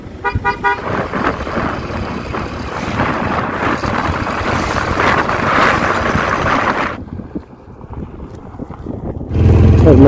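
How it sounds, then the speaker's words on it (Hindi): Strong wind roars and buffets the microphone on the snowy Khardung La mountain pass, a loud continuous rush that drops briefly before surging back. "हवा का प्रेशर भी बढ़ता जा रहा है, धीरे धीरे तेज हवाएं चलते जा रही है"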